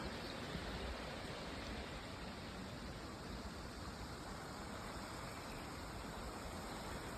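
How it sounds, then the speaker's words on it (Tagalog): A forest stream rushing steadily, a dense unbroken wash of flowing water that stays even and fairly soft from start to finish, with no voices. "Ang sarap pakinggan ng agos ng tubig"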